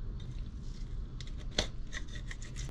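Knife slicing through the collar of a freshly caught yellowtail, giving soft scraping, rasping cuts with one sharper crack midway, close and fairly quiet over a steady low background hum.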